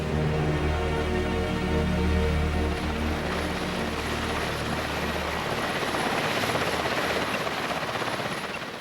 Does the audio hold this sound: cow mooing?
no